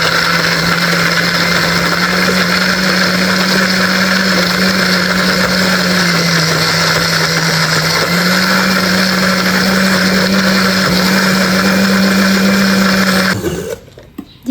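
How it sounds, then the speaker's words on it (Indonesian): A blender grinds a lemongrass spice paste with water, a loud continuous motor roar held steady for about thirteen seconds before it winds down and stops. "Nah, sekarang kita siap memblendernya."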